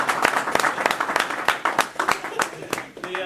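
A crowd claps in steady applause at a charity closing ceremony, dense and moderately loud, with a voice briefly heard near the end.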